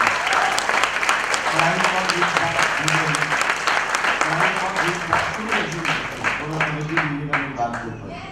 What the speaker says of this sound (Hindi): मैं एक बार बहुत जोरदार ताली चाहता हूँ गुरु मंगल सिंह जी के लिए, बहुत जोरदार ताली।